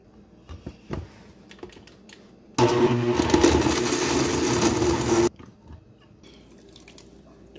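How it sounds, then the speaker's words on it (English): A kitchen blender roughly crushing ayamashi sauce ingredients roars loudly for about three seconds, then cuts off abruptly, with quieter handling clatter before and after. "You just want to give it a rough blend."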